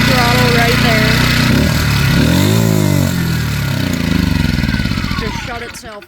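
Predator 1400 watt inverter generator running loud at full throttle, its engine revving up and surging in pitch, then winding down as it shuts itself off after over-revving.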